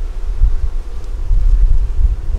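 Honeybees swarm and buzz around a hive outdoors, a close, continuous low droning hum rising and falling as they fly past, mixed with light wind rumble.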